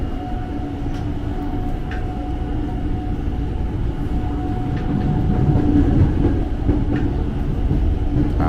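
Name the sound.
KRL commuter train moving at Manggarai station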